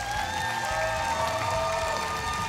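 A large television audience applauds and cheers continuously at the Vocea României 2023 final, a dense, steady roar of clapping with sustained musical tones underneath.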